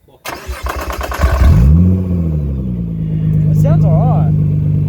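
A Nissan GT-R with a catless mid pipe cranks over and fires up loud and close, its engine surging into a rev before settling to a steady, deep idle, with people talking over the engine later on.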